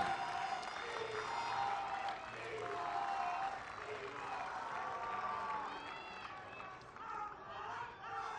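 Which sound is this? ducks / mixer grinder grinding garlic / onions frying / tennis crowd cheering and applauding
tennis crowd cheering and applauding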